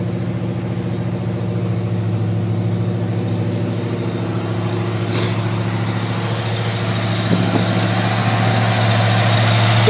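A 1950 Chevrolet 3100 pickup's crate motor idles steadily nearby, a constant low rumble with no talk. The note stays level and picks up slightly toward the end.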